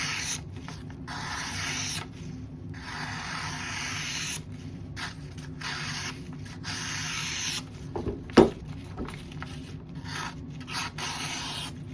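A 7-inch custom chef's knife juliennes paper in rapid repeated slicing strokes, a steady run of close, soft rasping cuts broken by short pauses, with a single sharp knock near the end and no talking.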